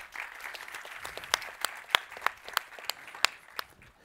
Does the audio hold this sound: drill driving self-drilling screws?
no